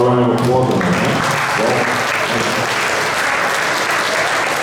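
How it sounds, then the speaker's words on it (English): Sustained applause from an audience at a spring athletic awards event, a full, even wash of clapping that follows a brief voice and continues steadily throughout. "How about a round of applause on that?"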